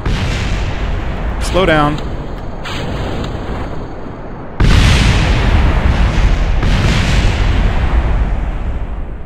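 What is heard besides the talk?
rocket explosions in video game Kerbal Space Program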